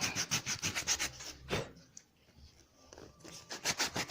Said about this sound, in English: we are using a sandpaper to roughen it